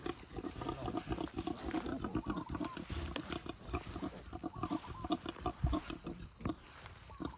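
Pigs with newborn piglets out in an open field give dense, overlapping grunts and squeals. The calls come in a continuous, busy chorus at moderate volume, with no talk heard.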